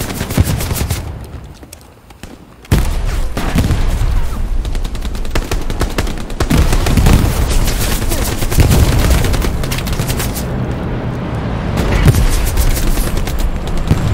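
Gunfire in Hell Let Loose, the World War II shooter, during a Omaha Beach landing assault: dense, loud, sustained bursts of rifle and machine-gun fire with booms mixed in, after a brief quieter start, and faint voices underneath.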